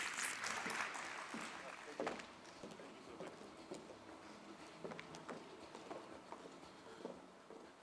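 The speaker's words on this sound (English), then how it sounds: "Let's give him a round of applause and welcome him on stage." Audience applause welcoming a speaker onto the stage at the NEV Summit 2025, a moderate patter of clapping in a large hall that thins into scattered claps, with some voices underneath.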